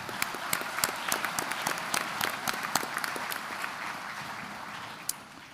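A college commencement audience applauds with sharp, scattered claps that build into a steady round and then thin out near the end, moderately loud in a large hall.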